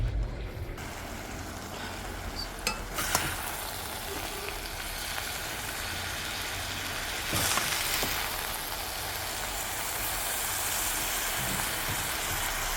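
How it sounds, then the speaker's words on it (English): Chopped eddo leaf callaloo fries in a pot with a soft, steady sizzle and crackle that runs the whole time, quiet and close, with a couple of faint knocks and no talking. "I'm gonna start frying up the eddy leaf callaloo"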